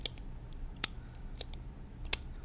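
A pen is clicked repeatedly in quick sharp snaps, four close, crisp clicks at an irregular rhythm against quiet background hiss.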